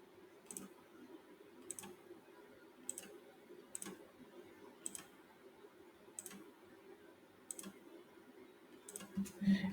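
A computer mouse clicks while selecting in Photoshop: faint, single clicks spaced about a second apart in a quiet room.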